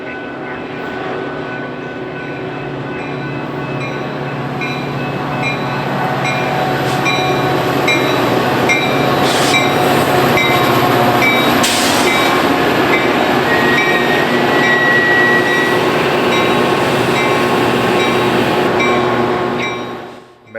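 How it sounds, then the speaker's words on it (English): A Metra commuter train hauled by an F40 locomotive on the BNSF line at Grange Road, a steady loud rumble building over several seconds and holding as it passes close, with a steady tonal whine above and a faint horn-like tone midway. "Another commuter local arrives at Grange Road."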